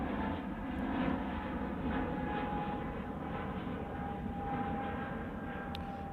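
KLM airliner passing at Manchester Airport, a steady broad jet engine roar with a faint whine, sustained and moderately distant without much change.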